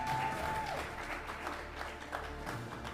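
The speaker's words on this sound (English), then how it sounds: "Please applaud her until she makes it." An audience claps continuously in a dense, steady wash of applause at a teachers' association awards ceremony in Jamaica.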